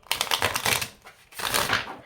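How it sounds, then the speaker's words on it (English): Tarot cards shuffled in two bursts of dense, rapid riffling and slapping, with a short lull between them, close and fairly quiet. "Okay, let's have one more little shuffle."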